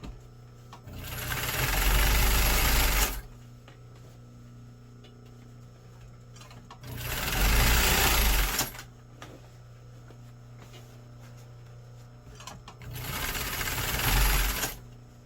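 A sewing machine on a medium stitch runs along a seam while tapering jeans. It gives three close, loud bursts of rapid mechanical whirring and thumping, each a couple of seconds long, separated by quiet pauses, with no talking.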